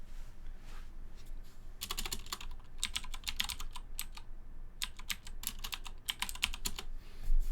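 Someone types a command on a computer keyboard in bursts of rapid clicking keystrokes, with short pauses between clusters, close and clear over a faint room hum.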